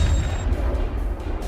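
A US warship firing missiles at sea, a heavy sustained roaring boom with deep low rumble filling the whole moment, loud and unbroken by speech.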